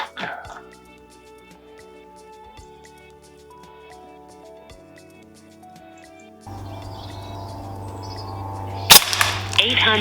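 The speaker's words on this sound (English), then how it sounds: "I put a target out at 40 meters to see how the Commander shoots" A single sharp crack of a Brocock Commander XR Magnum air rifle shot fired toward a 40-meter target at a club range, sounding near the end over a steady low hum and faint tonal background.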